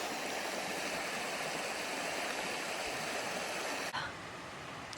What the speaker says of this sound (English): Great view of the river.